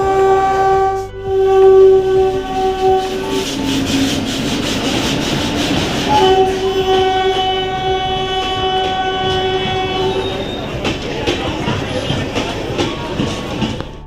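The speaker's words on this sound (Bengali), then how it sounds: "ট্রেন ঢুকে পড়েছে, এবার ট্রেনে ওঠার পালা।" The Purbanchal Express pulls into Naihati station with a loud rumble of wheels and carriages. Long sustained horn tones sound through much of the passage, with rubbing and squealing rail noise beneath.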